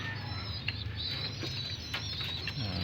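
Homing pigeons just released at morning time, soft coos and chirps over a low steady background rumble, with bursts of flapping wings close by.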